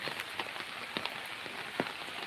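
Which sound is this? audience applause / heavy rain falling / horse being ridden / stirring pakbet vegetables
heavy rain falling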